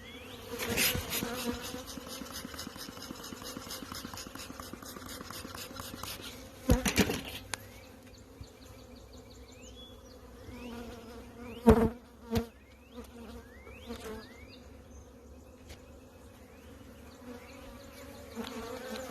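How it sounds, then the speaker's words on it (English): Honey bees buzz continuously on a hive frame of capped brood in spring, a dense droning hum, with occasional louder bees passing close and a few sharp knocks and clunks. "Just a really good looking frame there. Bees all over it."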